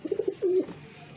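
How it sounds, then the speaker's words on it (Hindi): Pigeons in a Faisalabad loft give a few close, soft throaty coos. A short run of quick notes leads into one longer drawn-out coo, heard alone without talk. "बहुत ही अच्छे क्वालिटी के कबूतर हैं जनाब"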